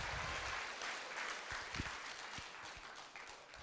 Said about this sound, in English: Let's give our students and staff a round of applause.